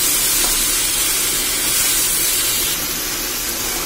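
Chopped tomatoes sauté with onion and okra in a pan for vendakka kuzhambu, giving a steady, loud, close hissing sizzle with no talk.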